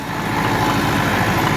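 An ATS 290 tractor runs with a rotavator attached, its engine a loud, steady rumbling drone with a continuous churning texture and no voices.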